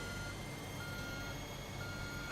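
A reversing truck in Construction Simulator 2 on PS4, a steady beeping alarm held over a constant engine drone, fairly faint and unbroken.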